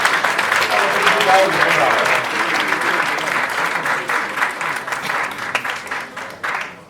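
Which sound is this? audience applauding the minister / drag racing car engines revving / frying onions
audience applauding the minister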